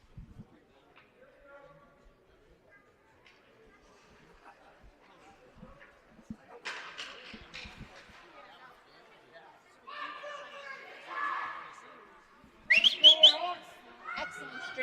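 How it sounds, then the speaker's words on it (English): A referee's whistle sounds at a youth ice hockey game in a rink, with short shrill blasts rising over crowd chatter, faint at first and then louder near the end. "So ref blows the whistle."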